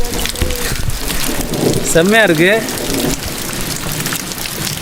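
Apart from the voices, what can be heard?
heavy rain falling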